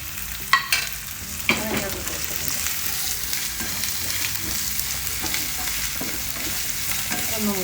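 Two medium sliced onions sizzle and fry in a pan with ginger and garlic, a loud steady crackle running throughout, with a few sharp clinks of a spoon scraping the pan near the start.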